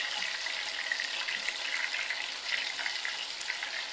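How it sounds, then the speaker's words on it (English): Cassava pieces deep frying submerged in hot oil, giving a steady, dense crackling sizzle that holds at an even level throughout with no talking. "This is deep frying, guys."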